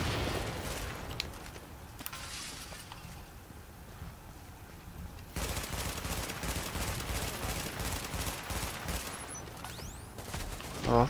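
Turret gunfire in the video game The Division at the Hudson Refugee Camp: a sustained, dense rattle of automatic fire that grows louder partway through, with steady background noise and no talk.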